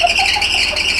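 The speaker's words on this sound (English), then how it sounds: "So the noise you hear is the coolant on the belt" A loud, shrill engine belt squeal from coolant on the belt of a Land Rover Discovery 4 after a major engine rebuild, sustained and wavering slightly in pitch throughout.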